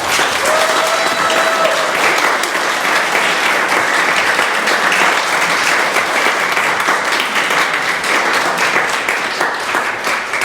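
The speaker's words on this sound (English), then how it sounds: "Let's give them a huge round of applause." Audience applause at a Cub Scout Pack 59 Arrow of Light and crossover ceremony, a steady dense wash of many hands clapping that holds loud and even for the whole stretch, with no talk over it.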